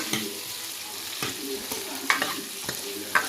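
Okra frying in a pan with onion and tomato for a tamarind curry, a soft steady sizzle broken by a few sharp spoon scrapes and taps as it is stirred until browned.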